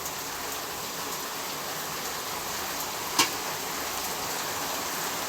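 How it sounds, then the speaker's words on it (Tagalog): Heavy rain pouring down on a farm during a low-pressure storm, a dense, steady hiss of downpour with one brief louder tap partway through; no one speaks. "Lakas na naman ng ulan."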